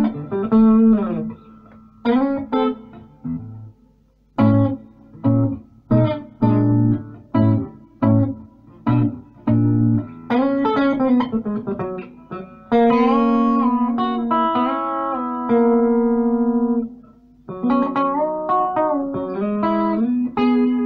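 Electric guitar picked in the hidden pickup position of a Flutney partscaster, a clean tone with plucked single notes and short chordal phrases, some notes held and ringing, played alone at close range.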